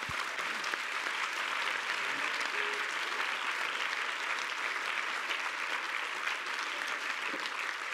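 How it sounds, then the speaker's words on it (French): A large audience applauds an orchestra and its conductor at the close of a day-long event, a steady, even wash of clapping heard at a distance and fairly faint, with no voices over it. "on peut très chaleureusement les applaudir tous"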